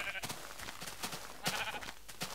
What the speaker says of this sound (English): Holy crap, there's a lot of sheep.